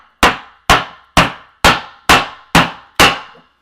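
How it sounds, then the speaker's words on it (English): A hammer strikes stove parts down through a piece of plywood, seven sharp, evenly spaced blows with short ringing decays, close and loud. "Grab a piece of plywood, put it on top of it, kind of firmly so it's like same level. And just hammer it down."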